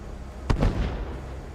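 A single grenade blast goes off in the game Starfield, a sharp close boom with a short rumbling tail that fades within about a second.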